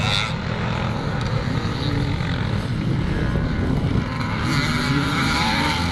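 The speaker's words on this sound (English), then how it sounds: "Second place man looks like it's Tommy Anderson once again on that very quick 250 Husqvarna" Classic motocross bikes, including a 250 Husqvarna, race at a grand national event, their engines droning steadily and loudly as a blended roar from several machines at a distance.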